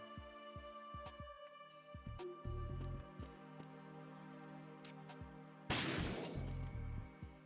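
Mirror glass shatters in Metal Gear Solid 2, a sudden bright crash of breaking glass after a run of soft game footsteps and thuds over a steady ambient hum.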